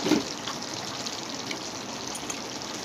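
Water is poured into a pan of papaya and potato curry cooked with onion juice and cashew paste, giving a short, steady gush with a soft hiss, moderately close and without talk.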